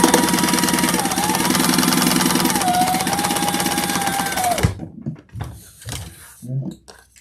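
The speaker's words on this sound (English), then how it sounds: "now we're going to baste across the bottom." A sewing machine bastes a seam across the bottom of a fabric car trash can, running in one steady, fast mechanical whir for several seconds. It then stops abruptly, followed by a few soft clicks and handling knocks.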